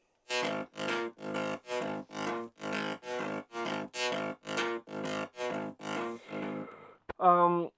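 A buzzy synth lead made in Serum and heavily processed plays a run of evenly spaced, punchy notes in a steady rhythm, ending with a short distorted stab.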